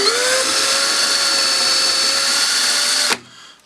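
A power drill bores a hole up into a wooden storage cabinet, a loud, steady whine held close for about three seconds before cutting off abruptly and spinning down.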